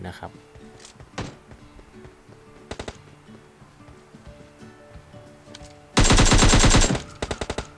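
Gunfire from another squad in PUBG Mobile: scattered single shots early on, then a loud, dense automatic burst lasting about a second, followed by a few quicker shots.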